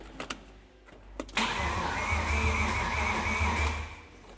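A Porsche V8 in an M3 GTR race car cranks after a few clicks, fires and settles into a loud, steady, rumbling idle close by, with no talk.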